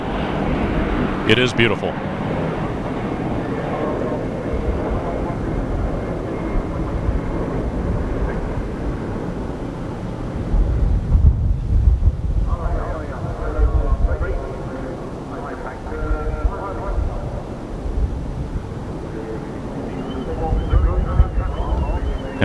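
A large airplane flies low and slow, at roughly 100 knots, in a flying display at the Farnborough Air Show in England, producing a loud, sustained engine roar with wind buffeting on the microphone, while a voice briefly speaks over it.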